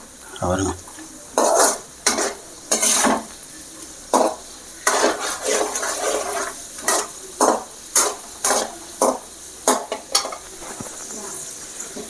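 Raisins and cashews frying in ghee in a pan for rava kesari, with repeated stirring and spoon-scraping bursts against the metal pan over a steady close sizzle, no talking.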